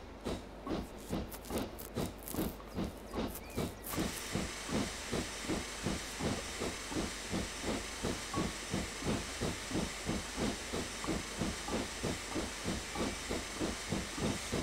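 A 7F steam locomotive pulls away in a train simulator game on the Whitby Pickering heritage line, a loud hiss joined by steady rhythmic chuffs that keep an even beat as it gets under way.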